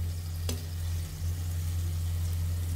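Onion paste frying in a pan for an egg omelette curry gives a steady, close sizzle over a constant low hum, with a brief sharp click near the start.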